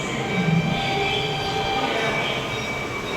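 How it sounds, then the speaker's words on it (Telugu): A toy train runs on a layout at a rail museum show in Chennai, giving a steady rolling rumble with faint wheel noise that carries on through the whole stretch at moderate distance. "అగో రెడ్ ట్రైన్ అక్కడ చూడు."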